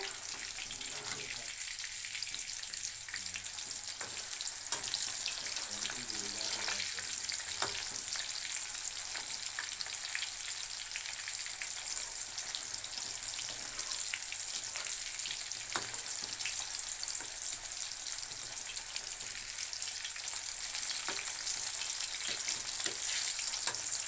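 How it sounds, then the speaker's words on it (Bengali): Pumpkin pieces frying in a pan for a home-cooked meal, a steady, close, continuous sizzle with occasional crackles running the whole time, no talking. "দেখো কুমড়োটা লাল করে ভাজা হয়ে গেছে।"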